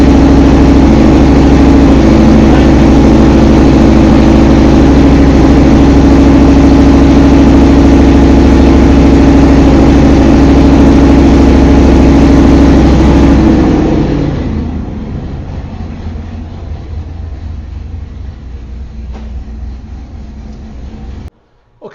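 A 383 small-block Chevy stroker fitted with a Comp XE274H camshaft roars steadily under load on a dyno, loud and sustained for about thirteen seconds before the revs drop away to a lower idle-like rumble.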